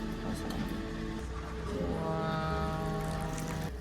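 Hot tea pours steadily from a carafe into a cup for several seconds, a continuous splashing trickle with faint clinks and background murmur.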